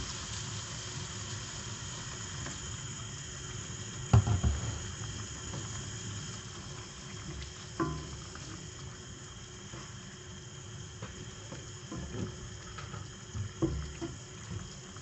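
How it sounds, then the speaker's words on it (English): Water poured into chicken simmering in soy sauce, Malay masak kicap style, a faint, steady running and bubbling hiss with a few soft clinks and knocks from the pot. "Okay, add more water."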